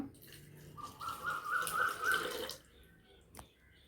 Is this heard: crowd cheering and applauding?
no